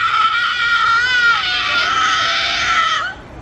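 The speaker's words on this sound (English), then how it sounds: "And that's where the screaming's coming from." A long, shrill, sustained scream rings out loud and close at a Howl-O-Scream Halloween night event at Busch Gardens Tampa Bay, then cuts off abruptly.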